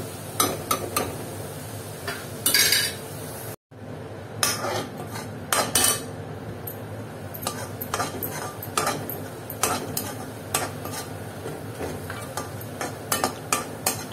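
Tomatoes cooking with rock salt in a pan for a Banarasi tomato chaat, a metal spoon repeatedly scraping and clinking against the pan in an irregular stirring rhythm over a soft steady sizzle, close and without talk.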